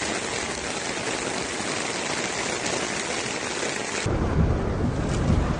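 Steady, heavy rain hisses and roars without a break in Makkah or Madina, growing deeper and louder toward the end.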